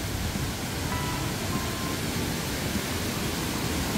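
A mountain valley stream below Hongryongsa temple in Yangsan, Korea, rushes in a dense, continuous broadband wash of flowing water, close and steady throughout with no voices.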